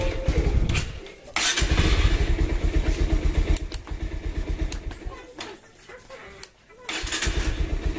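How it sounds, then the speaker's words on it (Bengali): A Bajaj Pulsar motorcycle, just repaired for a starting problem where it cut out on its own, is started. Its engine catches and revs loudly in chugging bursts, with a few brief drops and pauses between pulls. "আমরা স্টার্ট করে দেখি"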